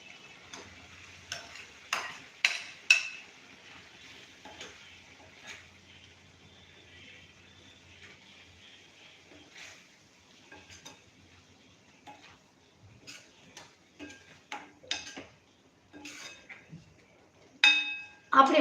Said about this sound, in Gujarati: હવે આપણે મગની દાળને એમાં નાખી દઈશું.